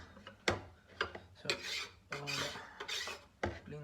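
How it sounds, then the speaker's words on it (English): Scrubbing and scraping a chopping board clean in a home kitchen while making a meat pie, repeated rough rubbing strokes in uneven bursts close by, with faint clatter between strokes. "clean the chopping board"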